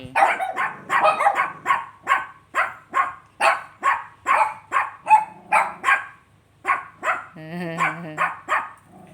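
A pet dog barks steadily at close range, each bark following the last at an even pace, with a brief whimpering, whiny note near the end.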